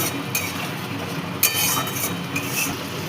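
A spoon stirs Kashmiri chilli powder and kasuri methi into lentil batter in a bowl for lentil fritters with ridge gourd, producing a few light clinks against the bowl over a steady soft hiss.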